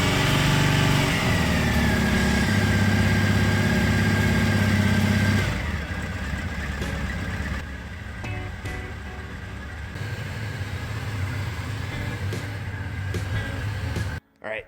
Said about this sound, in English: We're gonna fire it up and we're gonna let it idle for